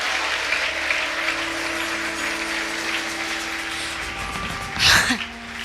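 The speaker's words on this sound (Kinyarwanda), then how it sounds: "Komera Imana amashyi menshi" A church congregation claps in sustained applause that carries on steadily, then swells into a brief louder burst near the end.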